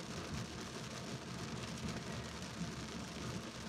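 Steady, dense rain pours down continuously during a motorcycle riding test, a broad hiss of drops striking surfaces nearby with a low rumbling undertone and no voices.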